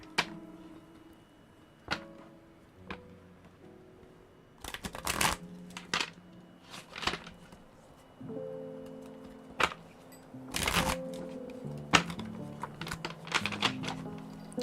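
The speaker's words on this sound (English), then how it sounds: "Shuffling these back in." Tarot cards shuffled by hand in a few crisp riffling bursts separated by quieter stretches of soft card handling and taps, close and alone with no talking.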